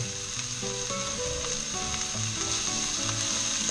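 Onions sizzle steadily in hot oil, a continuous crackling fry close up, with occasional stirring and clinking underneath.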